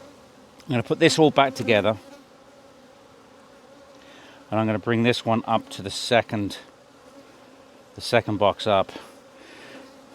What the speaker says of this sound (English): No doubt there's going to be some bees getting squished here